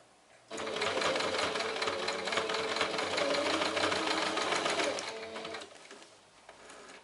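A sewing machine stitches a zigzag seam in one continuous whirring, rattling run of about four and a half seconds, starting abruptly and winding down at the end, with no speech.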